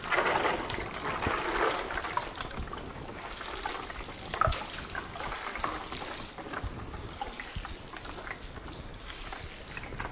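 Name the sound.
top watering pea microgreens trays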